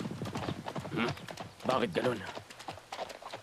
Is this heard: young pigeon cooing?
no